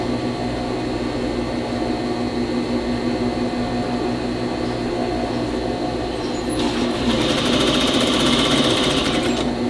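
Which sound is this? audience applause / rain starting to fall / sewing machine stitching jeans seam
sewing machine stitching jeans seam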